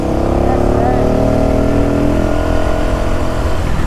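A Honda Pop 110i motorcycle without an air filter, ridden carrying a passenger, its engine droning and revving steadily and loudly up close under a voice talking.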